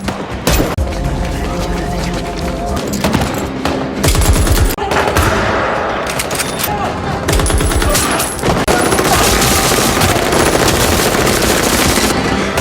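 Loud bursts of gunfire, rapid automatic volleys mixed with single shots and booms, running almost continuously over a dramatic battle soundtrack.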